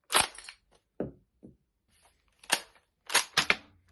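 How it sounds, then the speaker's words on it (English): A Kar98k Mauser bolt-action rifle's bolt is worked forward, giving a few sharp, close metallic clicks and clacks with brief quiet gaps between them and a final quick double snap. "Then, send the bolt forward."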